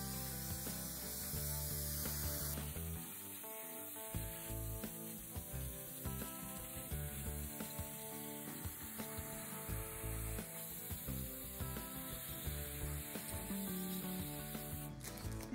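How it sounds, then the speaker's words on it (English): An aerosol can hisses in a long continuous spray of varnish onto an acrylic pour painting, close and steady, with brief pauses and faint rattling near the end. "So give that a nice shake and start spraying."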